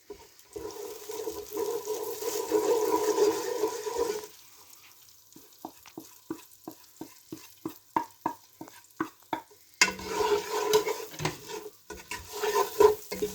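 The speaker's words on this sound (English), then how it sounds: "We'll put the spices in now." Spices going into softened onions in a frying pan: a loud steady sizzle, then a quieter stretch of rhythmic scraping and stirring strokes, and finally the sizzle swelling up again, close by.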